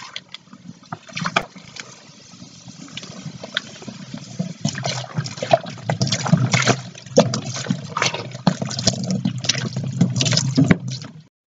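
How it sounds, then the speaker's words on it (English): Apple cider from a 3-litre bottle is poured down a sink in a steady gushing, splashing stream that runs for several seconds, growing slightly louder before stopping abruptly. "So enough said, that's where it goes, down the sink, where it belongs."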